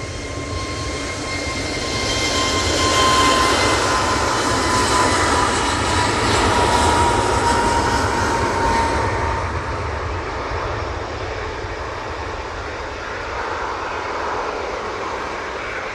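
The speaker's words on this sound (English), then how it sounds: "EasyJet A321neo now on the roll." An EasyJet Airbus A321neo takes off at Manchester Airport, its jet roar swelling loud with a whining engine tone, peaking mid-way and then fading into a distant rumble as it climbs away.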